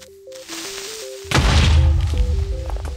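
A Minecraft creeper explosion in its current game version bursts in loudly as a deep, rumbling blast, sustained and booming over a low tonal game sound that runs beneath it.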